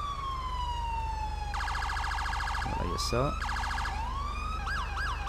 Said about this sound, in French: je vais vous montrer aussi les nouvelles sirènes hein, que j'ai installées.